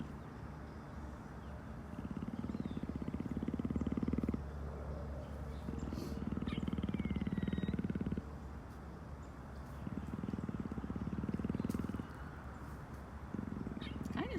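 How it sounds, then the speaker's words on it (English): A leopard gives low, rumbling grumbles in rhythmic bursts, close by, with short quiet gaps between them. "But leopards don't purr. She's just grumbling."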